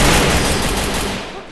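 Gunfire in the Free Fire video game erupts as a dense, loud burst of rapid shots lasting a second and a half, fading slightly at the end.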